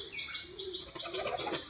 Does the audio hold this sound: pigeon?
yes